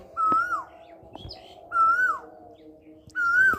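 An Asian koel calls three times, each a clear rising-then-falling whistled note, evenly spaced and fairly close.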